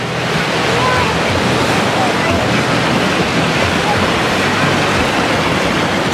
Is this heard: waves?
yes